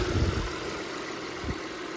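An old Audi A6 that had sat unused for over a year fires up with a short low thump, then settles into a steady, close engine idle rumble.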